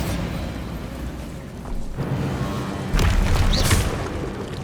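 A Bombarda spell detonates in Hogwarts Legacy as a deep, rumbling boom that swells midway and then breaks into a louder crackling burst near the end, heavy low end throughout with no voices.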